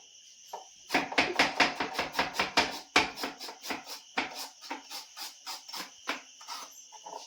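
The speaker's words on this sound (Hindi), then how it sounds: "तो दोस्तों प्याज काट दिया" An onion being finely chopped with a knife on a board: a fast run of close, sharp taps, then a short pause and a slower, uneven series of cuts, over a steady insect-like chirp.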